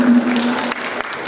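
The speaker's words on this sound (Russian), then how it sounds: "Аплодисменты, пожалуйста." Brief burst of audience applause at a visionary art exhibition in Moscow, loud and close, with a sustained tone underneath and the clapping thinning out toward the end.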